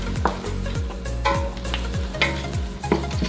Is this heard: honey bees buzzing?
no